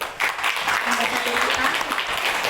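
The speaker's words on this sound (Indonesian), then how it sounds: "Tepuk tangan buat" Audience clapping at a network-marketing business meeting held in a homestay, a steady burst of applause with a voice talking over it throughout.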